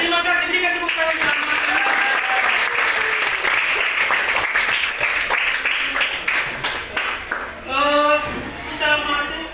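A classroom of students claps together in sustained, lively applause that tapers off toward the end while the teacher's voice comes in over it.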